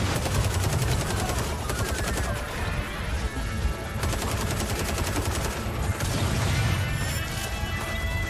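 Sustained bursts of rapid automatic fire from a mounted gun in a video game, loud and continuous with brief pauses, crashes and impacts mixed in.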